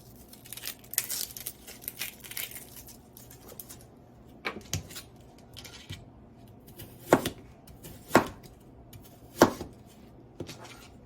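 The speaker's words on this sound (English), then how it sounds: "we are just going to roughly chop our onion" A knife roughly chopping an onion on a cutting board, with irregular crisp strikes and a few sharper, louder chops spaced a second or so apart near the end, close and alone.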